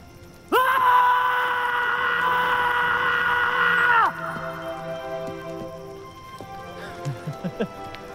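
A loud, sustained scream from people holds steady for about three and a half seconds, then cuts off, leaving quieter tones and a few short knocks.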